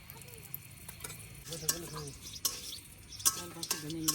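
Chopped garlic and dried chillies sizzling in hot mustard oil for tempering lentil dal with spinach, a quiet steady fry punctuated by sharp crackles and spoon stirring against the pan.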